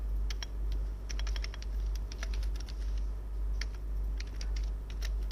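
Rapid, steady typing on a computer keyboard, with close, crisp key clicks over a constant low hum.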